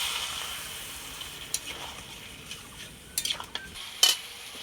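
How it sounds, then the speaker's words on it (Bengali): Masala spices frying with vegetables in a pan for a vegetarian curry with lentil fritters and helencha greens, a soft continuous sizzle broken by a few utensil clinks and scrapes toward the end, no voices. "মশলাটা দিয়ে খুব সুন্দর করে ভেজে নিয়েছি"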